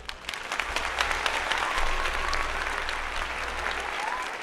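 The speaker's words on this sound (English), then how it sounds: "I think that gets a round of applause." A burst of crowd applause, dense clapping with scattered sharp claps, holds steady at moderate volume throughout.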